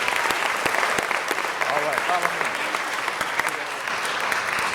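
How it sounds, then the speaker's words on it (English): A city council meeting audience gives honorees another round of applause, sustained even clapping from many people in a hall at moderate level, with some murmuring voices mixed in. "Give them another big round of applause."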